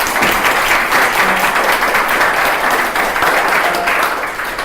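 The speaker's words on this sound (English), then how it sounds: "a big round of applause to Liverpool" A big round of applause fills a hall at a pro-Europe rally in Liverpool, loud dense clapping from a crowd sustained without pause the whole time.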